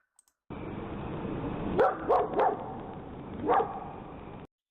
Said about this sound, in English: one of the dogs notices it and barks after it comes out